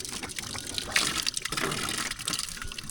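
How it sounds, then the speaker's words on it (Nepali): Cold water of a three-stream waterfall in a forest, a continuous close rushing and splashing flow with faint voices underneath. "झरनाको चिसो पानी"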